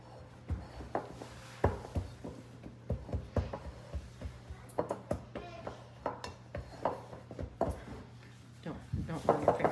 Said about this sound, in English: 12 tablespoons of butter with 1/2 cup of flour, and she's going to cut that in to make it kind of crumbly.